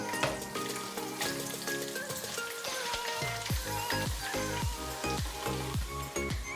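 Two onions fry in oil for a catering-style chicken curry, a steady crackling sizzle with intermittent stirring knocks and scrapes close by, and no one speaking.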